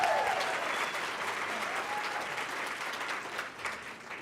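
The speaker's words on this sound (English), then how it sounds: "let's have one more round of applause for our elementary division finalists" Applause from a ceremony audience, honoring elementary division finalists at a teacher of the year event: steady, dense clapping filling the room, holding at an even level with slight swells before tapering near the end.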